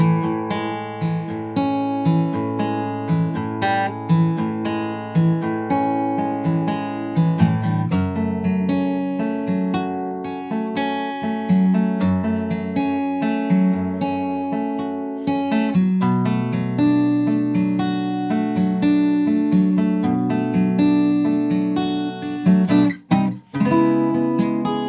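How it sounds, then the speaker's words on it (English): An acoustic guitar is fingerpicked through the chorus chords of a song, with steady arpeggiated plucked notes and bass notes ringing close and clear for about twenty-five seconds, and no talking. "So same kind of finger picking ideas, but just around these chords."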